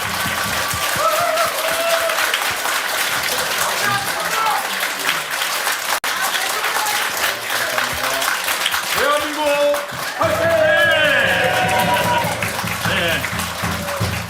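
An audience applauds warmly to send off Prime Minister Hwang Kyo-ahn at a gathering, with a steady wash of clapping throughout while a voice keeps speaking over it.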